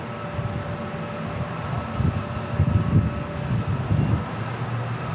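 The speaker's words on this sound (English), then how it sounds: "this A321 for Delta Airlines getting ready to roll" Delta Air Lines Airbus A321 jet engines spooling at San Diego International Airport before takeoff, a low steady rumble with a faint whine, distant and swelling slightly midway.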